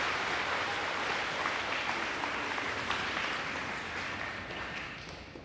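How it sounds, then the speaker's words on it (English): An audience at an elementary school D.A.R.E. graduation gives a round of applause, a thick, continuous burst of many hands clapping that slowly fades toward the end. "give him a round of applause"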